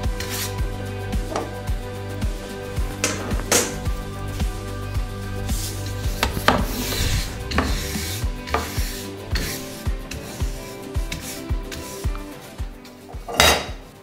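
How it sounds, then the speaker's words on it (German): A wood-fired bake oven's floor is swept out, with repeated scraping and rasping strokes and clattering knocks against the oven floor, moderately close and irregular in rhythm. "die frei gewordene Seite, die kehren wir jetzt noch aus, dass der Ofen dann noch schön sauber ist"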